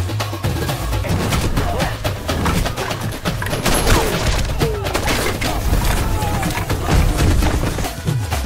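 Rapid bursts of gunfire crackle continuously amid booms and crashes in a bunker shootout, loud and chaotic, with voices buried in the din.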